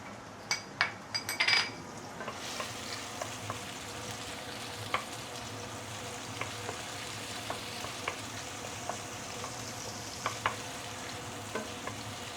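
Freshly cut herbs fry in about two tablespoons of oil for braised fish, a steady soft sizzle throughout with a few sharp clinks of a utensil against the pan early on and scattered light stirring taps after.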